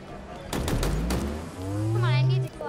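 Gunfire in the Halo video game during a free-for-all match, a quick burst of several sharp shots close together, followed by a rising electronic whine, with voices nearby.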